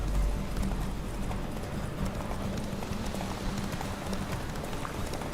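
Hooves of a galloping horse in The Witcher 3 pound in a rapid, continuous rhythm, loud and close, with a low rumble underneath.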